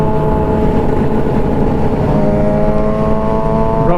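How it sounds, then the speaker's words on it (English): Motorcycle engine running steadily near an R6 sport bike, a loud continuous droning hum with harmonic whine and a slight rattle, no talk. "his bike is rattling, bro, and I think it's mine"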